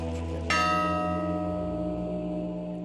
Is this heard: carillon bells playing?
yes